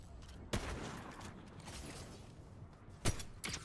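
Gunfire in the video game Fortnite, two sharp distinct shots spaced a few seconds apart over a busy, rumbling game background.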